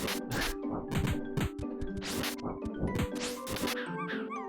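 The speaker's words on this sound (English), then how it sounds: "Jesus Christ, these dogs." Dog enemies in the SNES game Secret of Mana 2 (Seiken Densetsu 3) bark and yip in quick repeated bursts, mixed with hits, crashes and other game effects over steady background music.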